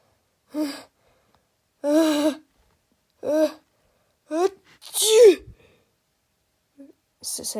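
A voice imitates sneezing, several exaggerated sneezes one after another with pauses between, close and fairly loud.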